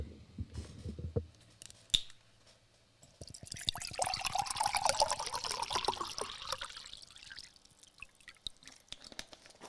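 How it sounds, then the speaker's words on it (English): Water poured into a cup, a trickling, splashing stream that rises after a few soft clicks and handling noises, then tapers off into light drips and taps, fairly close and quiet. "My cup is empty right now, which I will fix right now, Pauline."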